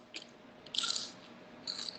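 Crispy dried fish (tuyo) is crunched and chewed up close in quiet surroundings, with a short bite followed by two louder, brittle crunch bursts.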